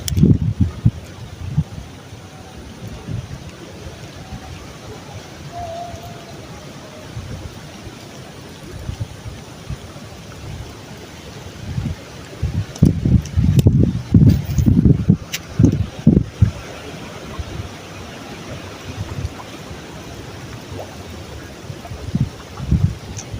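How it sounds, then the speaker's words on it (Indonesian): Strong wind blows outdoors at a swamp while casting for snakehead fish, a steady broadband roar buffeting the microphone, with rustling and water-like wash throughout and heavier gusts near the middle. "Karena anginnya cukup kencang tuh kita nggak bisa akurat lemparnya kawan."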